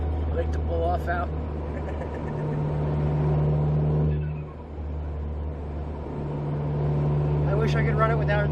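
A Ford Fiesta engine running without its airbox idles with a low steady drone, then revs up and falls back before settling, close and loud, with people talking at the start and end.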